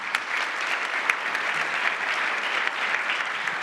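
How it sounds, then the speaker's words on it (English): An audience gives a steady round of applause for a game show contestant, with dense clapping and scattered sharper claps that hold at an even level for the whole stretch, and there is no talking over it. "everyone, a round of applause for Matt"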